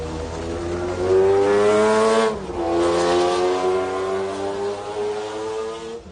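A McLaren race car at the 1995 24 Hours of Le Mans spins at the chicane: a loud, near, continuous engine drone with a sharp dip and pitch break midway as it turns around, then the engine picks back up.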